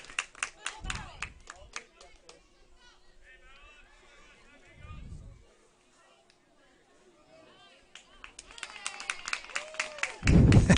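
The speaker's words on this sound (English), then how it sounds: "the fans and the home plate umpire cheer after dusting off home plate" Fans at a high school baseball game between Richland and McKenzie clap in a brief patter at the start, then break into louder, dense applause and cheering near the end, with someone talking through the quieter middle.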